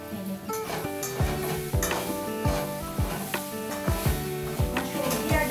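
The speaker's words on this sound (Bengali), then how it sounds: "সময় ধরে ধরে নেড়ে নেড়ে একটু ভাজলে মুগের ডালগুলো সুন্দর করে ভাজা হয়ে যাচ্ছে" Moong dal and vegetables frying in a pan for millet khichuri, with a steady sizzle broken by repeated scraping strokes of a spatula stirring, close and alone without speech.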